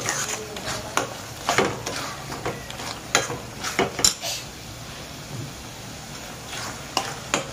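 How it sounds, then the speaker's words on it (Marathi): Masala of coriander powder and garam masala roasting in a pan for paneer masala, with a spatula scraping and clinking against the metal in irregular strokes over a soft, steady sizzle. "मसाला आता आपला चांगला मस्तपैकी भाजलेला आहे"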